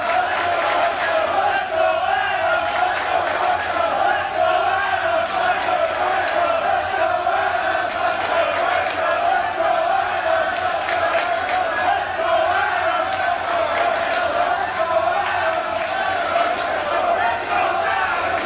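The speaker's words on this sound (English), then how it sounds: "Let's listen to the crowd." A packed indie wrestling crowd in Elizabeth, Pennsylvania chants and cheers in a loud, rhythmic pattern with pulsing shouts and clapping, sustained throughout at fever pitch.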